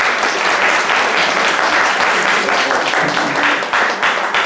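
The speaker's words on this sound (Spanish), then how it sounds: "un aplauso para el doctor Samuel" An audience applauds a doctor at an institutional talk on smoking and vaping, with loud, dense, continuous clapping from a full room that holds steady for several seconds.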